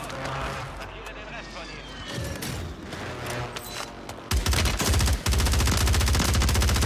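Rapid bursts of submachine gun fire in a shooter video game, dense and loud, with sharper fast volleys in the second half and someone talking over the gunfire.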